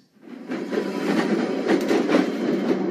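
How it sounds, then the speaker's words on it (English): A safari park tram rumbles along on its rails with a steady rolling drone and faint rhythmic clatter, fairly close and alone without voices. "We were on a tram."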